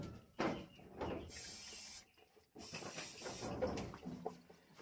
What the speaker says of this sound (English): A little bit of anti-mastitis spray to make sure she stays healthy.